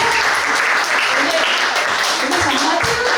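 Steady audience applause fills the room at a youth center exchange event, dense, loud and continuous clapping from many people with no break.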